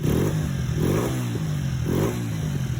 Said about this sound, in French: La moto démarre nickel, mais est-ce qu'elle va tenir le ralenti?